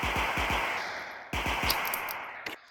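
Video game gunfire with recoil rattles out in two rapid automatic bursts, each a tight string of punchy shots followed by clinking casings and a short mechanical clack at the end, with no one talking.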